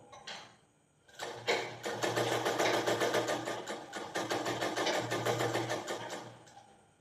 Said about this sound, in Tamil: ரெண்டு மடிப்பு மடித்து அதே மாதிரி இப்படி ப்ரெஸ் பண்ணிக்கணும் ப்ரெஸ் பண்ணிவிட்டு உள் ஓரமாக தைக்கணும்